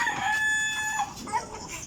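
A rooster crows once in a backyard flock of chickens during morning feeding, a clear mid-distance call with faint clucking and ambient noise beneath.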